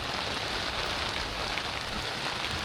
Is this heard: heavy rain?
yes